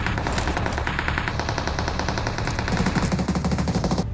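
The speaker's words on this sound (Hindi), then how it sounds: "और फिर मुझे ये गोली चलने की आवाज भी आई" Rapid automatic gunfire in the mobile battle royale game BGMI, a continuous close burst of machine-gun shots in quick even rhythm lasting the whole four seconds, with no talking.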